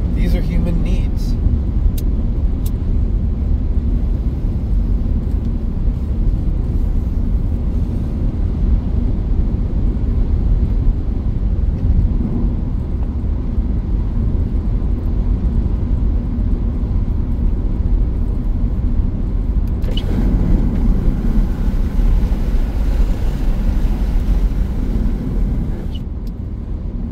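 A car drives along the road into Morro Bay, giving a steady, loud interior rumble of engine and tyres that holds unbroken throughout.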